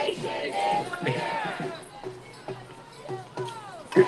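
Protest crowd on a New York City sidewalk, with nearby voices shouting and chanting in bursts over a busy street murmur, close and fairly loud.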